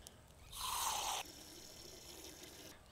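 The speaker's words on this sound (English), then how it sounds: "I'm just gonna fill it up with a little bit more water so that we can get it touching" Water poured into a hydroponic Kratky container for growing pumpkins, a short bright splashing pour lasting under a second, close and fairly loud, then quiet room tone.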